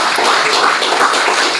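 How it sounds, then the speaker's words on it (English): An audience at a livestreamed academic event on the legacies of race and slavery applauds, with dense, steady clapping filling the whole short stretch at close, loud level. "please join me in giving them a round of applause"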